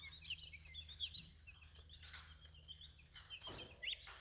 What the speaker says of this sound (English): There are 14 hens in here and 2